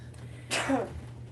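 One short, sharp sneeze bursts out close by over a low background hum.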